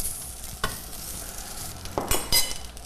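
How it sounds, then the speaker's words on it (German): Potatoes fry in a pan with a soft, steady sizzle, broken by several louder scraping and stirring clatters near the end, close up with no talk. "Wir geben einmal die Erdäpfel da in die Pfanne."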